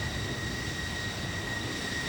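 An F-14 Tomcat jet engine runs during an aircraft test on a runway, a steady, loud roar with a thin high whine held throughout and no talking.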